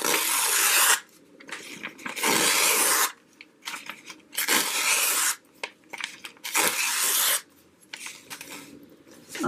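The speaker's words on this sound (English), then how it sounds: "It's just tearing some strips. You can always rip like this too." Paper strips torn by hand in a series of quick, dry ripping bursts, each lasting about a second, separated by short quiet pauses, close and fairly loud with no talking.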